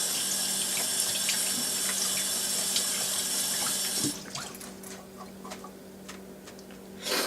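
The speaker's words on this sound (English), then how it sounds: "now I gotta rinse my fingers off" A kitchen tap runs steadily as fingers are rinsed under it during cookie baking, a loud close hiss of water that cuts off abruptly partway through, leaving quiet clinks and small handling sounds.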